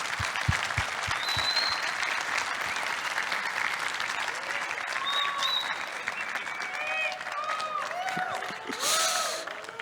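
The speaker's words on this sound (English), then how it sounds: "so then we are going to give a big clap to our friend José." A conference audience claps after a security talk on bypassing ASLR through Intel branch predictors, producing sustained, moderately loud applause, with a few isolated claps at the start and brief whistle-like tones and murmuring voices mixed in.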